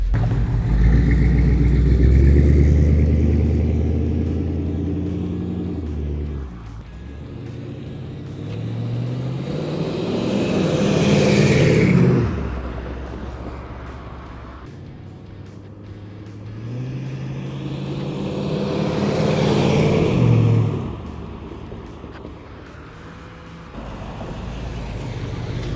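A 1958 Chevy Del Ray passes twice with a rising, then fading engine rumble. Each pass builds to a clear peak before receding, with a low steady drone in between.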